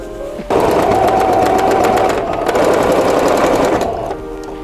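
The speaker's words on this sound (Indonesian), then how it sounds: "Setelah itu kita jahit sekeliling tali. Kita lipat 1 cm, lalu kita jahit." A sewing machine stitches around a folded canvas bag strap, running in a loud, steady, rapid hum for about three and a half seconds, with a brief slowdown partway and a quieter pause at the end.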